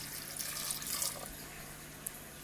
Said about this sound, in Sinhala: දැන් මේ කඩල වලට වතුර ටිකක් එකතු කරලා